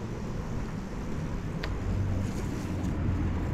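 A vehicle rolls along a riverside promenade in León, Guanajuato, through puddled water on the path, giving a steady rushing wash with wind noise throughout and a brief splash near the middle.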